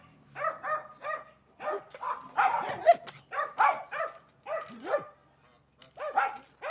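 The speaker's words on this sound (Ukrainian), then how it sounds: "Пес гавка і не дає мені говорити." A dog barks repeatedly in short bursts, close by and loud, with brief pauses between volleys and a few whiny yips mixed in.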